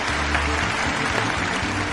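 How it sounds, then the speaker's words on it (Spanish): An audience at a llanera culture event in Puerto López claps steadily to welcome the town's mayor, a dense, even patter of many hands heard up close throughout. "Vamos a brindarle un aplauso a nuestro alcalde"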